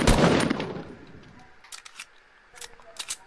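Gunfire in the video game Fortnite: a loud, dense burst of shots at the start that fades, then a few short, sharp cracks later on. Someone talks over part of it.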